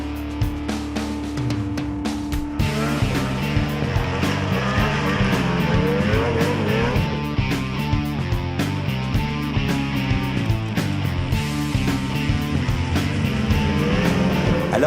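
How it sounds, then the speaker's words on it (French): A 2016 Ski-Doo MXZ Blizzard snowmobile runs for a sustained stretch, its engine loud and close, revving and surging continuously without speech. "on a roulé la MXZ de Blizzard, une nouvelle motoneige pour 2016 du côté de Ski-Doo"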